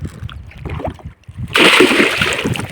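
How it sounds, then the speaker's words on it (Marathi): A large rohu fish of about two to three kilograms, landed from a village river in India, splashes hard in water, a loud burst of thrashing and spray in the second half after quieter low rumbling handling. "सगळं मोबाईलवरती पाणी उडवलं तिने"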